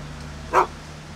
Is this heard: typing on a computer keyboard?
no